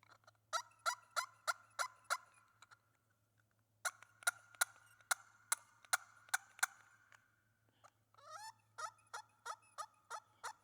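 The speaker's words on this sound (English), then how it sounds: "This is a little handheld, it's called a doo-rah turkey call." A handheld doo-rah turkey call with a slight scratch is worked in quick bursts of sharp, clucking yelps, three runs of evenly spaced loud notes separated by short pauses, played alone over a faint low hum.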